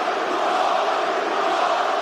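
Arena crowd at a UFC fight roaring in a steady, dense wash of cheering with no clear breaks.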